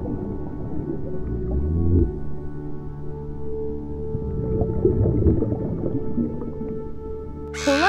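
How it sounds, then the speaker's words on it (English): A manatee vocalizes underwater, giving squeaky, tonal chirps and whines with a steady murmuring background and a sharp rising squeal at the very end. "Manatee."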